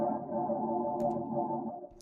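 A washed-out, glitchy ambient texture from a Therme effects pedal forms a soft, sustained mid-range drone with faint crackling glitches near the end.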